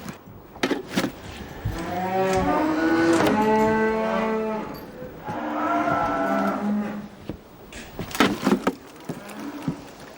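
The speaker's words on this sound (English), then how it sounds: "Oh, it's the cattle, sir." Cattle aboard an old sailing ship low and moo loudly, two or three long drawn-out calls close by, with knocks and thumps of the animals shifting around them.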